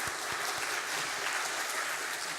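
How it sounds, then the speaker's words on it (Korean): A church congregation at a mothers' prayer meeting gives a steady burst of welcoming applause, dense overlapping claps throughout, moderately distant and without speech. "우리 목사님 나오실 때 큰 환영의 박수로 맞이해주시면 감사하겠습니다."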